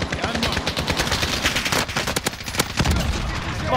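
Rapid bursts of automatic gunfire in the Call of Duty Warzone video game, loud and close, crackling in dense volleys nearly throughout with a few heavier thuds.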